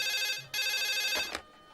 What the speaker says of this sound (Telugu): ఏమండోయ్, ఫోన్